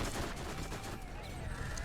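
Gunfire in the video game Borderlands, a quick burst of rapid, crackling shots running under a busy mix of game sounds, brief and fairly faint.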